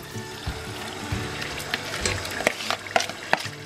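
Fresh tomatoes dropped into a pot of cooking Nigerian tomato stew, soft wet plops and light splatters over a low steady simmer, a few sharper clicks near the end.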